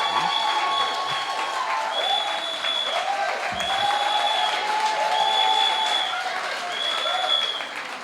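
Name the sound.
audience applause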